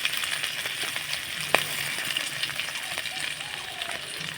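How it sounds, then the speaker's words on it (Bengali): Ginger and green chilli spice tempering sizzling in a hot pan for cauliflower patties, a steady close frying hiss with faint clicks of stirring throughout. "একটু নাড়াচাড়া করে ভেজে নেব ফোড়নটাকে।"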